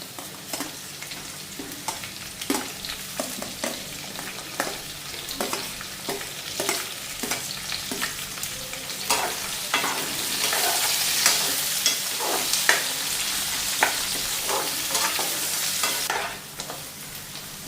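Onions fry in a hot pan under a constant sizzle, punctuated by regular scraping strokes of a spoon; the hiss swells louder partway through, then cuts off near the end.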